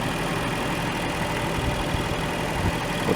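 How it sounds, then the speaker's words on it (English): A 2011 Infiniti M56x's 420-horsepower V8 engine idles with a steady low rumble throughout, close and fairly loud, with no voices. "healthy V8 engine, pumps out 420 horsepower"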